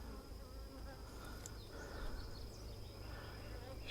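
Bees hum steadily around an open hive, a continuous faint buzzing drone that persists throughout with no voices.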